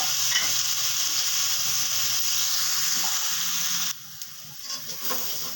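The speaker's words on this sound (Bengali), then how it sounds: "মশলাটা ভাজা কষানো হয়ে গেছে।" Turmeric, cumin and coriander powder fry and are stirred in hot oil in a pan for a pointed gourd curry, giving a steady close sizzle with scraping strokes that drops quieter near the end.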